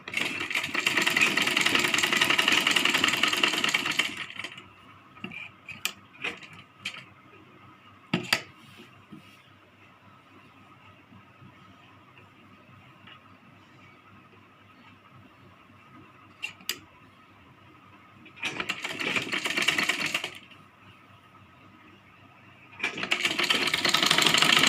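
Sewing machine stitching a Rajputi kanchali blouse, with loud bursts of running stitches at the start and end and again near the twentieth second, separated by a quiet stretch with light handling clicks.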